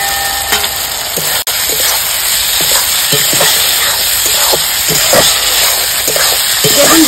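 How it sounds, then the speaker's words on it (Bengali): Fried eggplant gets stirred into spiced masala in a hot pan, giving a loud continuous sizzle with a steady hiss and scattered scraping taps of the spoon. "বেগুন দিয়ে আমি 1 মিনিট মতো একটু নেড়ে নেবো, খুব বেশিক্ষণ নাড়া যাবে না"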